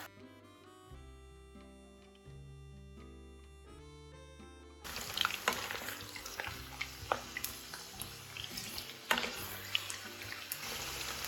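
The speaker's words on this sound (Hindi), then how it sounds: "घी हमारा हो गया गरम, और ये देखिए साथ साथ हमने ये डाल दिए आलू।" Potatoes dropped into hot ghee for Hyderabadi dum aloo: gentle music plays at first, then a loud, steady sizzle and hiss of frying sets in and stays, with small crackles and pops scattered through it.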